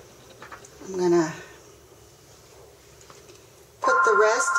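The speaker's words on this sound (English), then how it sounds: "Oh, I'm sorry for that phone." A telephone rings during soap making, a loud electronic tone that starts abruptly near the end and sounds over a quiet room with low background rumble.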